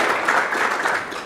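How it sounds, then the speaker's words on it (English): A conference audience claps in a brief burst of dense applause, loud and close, ending almost as soon as it starts. "That applause is for the changing the system line."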